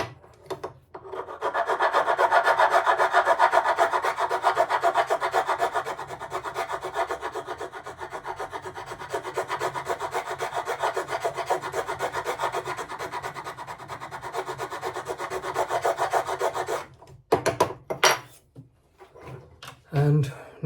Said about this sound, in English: So I like this scraper for that.